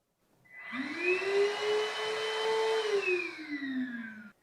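An Agaro cordless stick vacuum cleaner on its low suction mode spins up with a rising whine, holds a steady motor drone for a few seconds, then winds down, close and alone.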